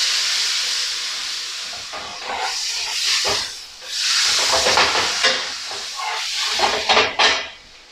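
A big, very thin burger patty sizzles in a hot pan, a loud steady hiss with crackling spits that swell and fade, close to the microphone with no talking.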